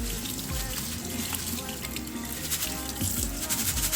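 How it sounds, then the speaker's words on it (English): Water runs steadily from a kitchen tap over rice being rinsed and drained, a constant close hiss and patter with small splashes. "you just drain the rice until the water comes out clear"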